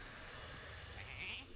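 Sheep bleating from the Polymorph spell in the Hearthstone card game, a soft game sound effect with a brief higher cry near the end over a steady hum of background noise.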